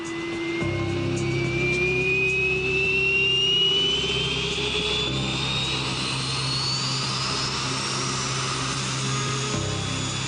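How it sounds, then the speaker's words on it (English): A powerful jet engine on a trike roars continuously up close, its whine steadily rising in pitch over a heavy rumbling drone. "blast it into submission and disappear into the blue yonder, thanks to an enormously powerful jet engine"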